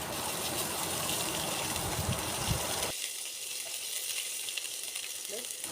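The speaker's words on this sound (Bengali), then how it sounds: "তারপর কড়াইতে তেল দিলাম এবং পেঁয়াজ এবং শুকনো লঙ্কা দিয়ে দিলাম।" Onions and dried red chillies fry in oil in a wok with a loud, dense sizzle that drops abruptly to a quieter, thinner hiss halfway through.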